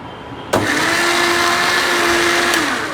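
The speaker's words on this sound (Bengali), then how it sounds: "আমরা এটাকে ব্লেন্ড করে নিব।" A kitchen blender switches on abruptly after a brief pause. It runs at a loud, steady whirring pitch while blending a mixture with a small amount of water, and no one speaks over it.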